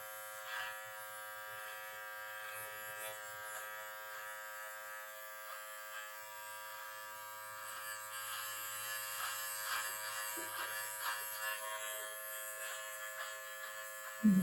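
An electric beard trimmer with no guard attached hums steadily while trimming a beard, a close, even buzzing drone that continues throughout at moderate level.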